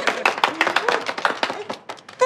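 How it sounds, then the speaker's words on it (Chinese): A small group claps together in an office, welcoming a new employee who has passed her probation; a close, brisk patter of many overlapping claps with no voices. "鼓掌。"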